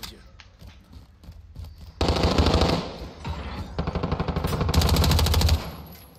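Loud automatic gunfire bursts in a Call of Duty Modern Warfare hardcore team deathmatch on the Vacant map, sparse shots at first, then dense rapid volleys close up.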